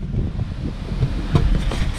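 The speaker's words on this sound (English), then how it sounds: "And it's windy and cold." Wind gusting at an apple orchard on a cold, muddy day, a low buffeting rumble against the microphone that rises and falls over a couple of seconds, with no talking.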